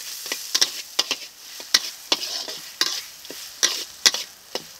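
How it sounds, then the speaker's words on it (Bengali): Prawns with spice paste and grated coconut sautéing in a pan, a continuous close sizzle punctuated by sharp, rhythmic scrapes and taps of a spatula against the pan. "এখানেও চিংড়ি মাছগুলো দিয়ে দেব। এখন আরো একবার কষিয়ে নেব।"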